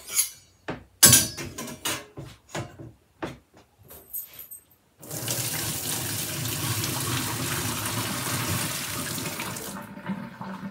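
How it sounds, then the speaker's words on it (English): Cooked noodles get drained: a run of clattering pot and colander knocks, then a steady, loud rush of water pouring into a sink for several seconds before it cuts off. "the noodles are done, so now we're going to drain them."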